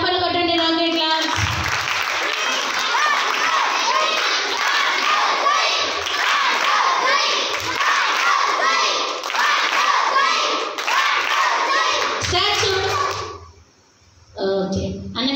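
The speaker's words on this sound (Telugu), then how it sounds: "ఓకే, చప్పట్లు కొట్టండి రాకెట్ క్లాస్" Sunday school children at a vacation Bible school clap and cheer together, a loud, dense burst of clapping mixed with shouts that fades into a brief lull before children's voices return.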